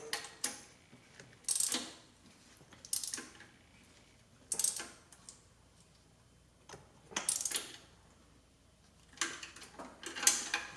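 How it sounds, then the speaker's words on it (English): A wrench ratchets in short bursts while tightening a fitting on the EGR valve of a 2005 Jeep Grand Cherokee 5.7 Hemi. About eight quiet, close clicking runs come with pauses between them, and no one talks. "Go back with the wrench. Make sure we're tightening."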